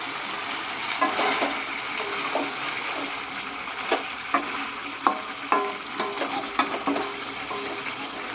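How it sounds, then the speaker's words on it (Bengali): Large-cut onion pieces fry in oil with a soft, even sizzle, broken by repeated clicking and scraping stirs of a spoon in the pan, close and moderately loud. "বড় বড় করে কেটেছি পেঁয়াজ তো পেঁয়াজটা ভেজে নেওয়া হচ্ছে"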